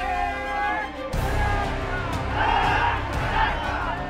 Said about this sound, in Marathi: एक मराठा लाख मराठा अशा घोषणांनी इथला परिसर दणाणून गेला